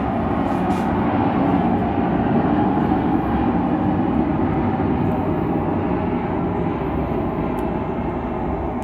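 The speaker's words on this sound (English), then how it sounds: "Excuse the airplane. I live right near your airport." A loud, steady roar of an airplane passing overhead near an airport, a broad continuous rumble that holds at near-constant strength for several seconds.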